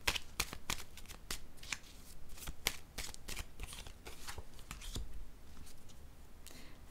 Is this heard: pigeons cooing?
no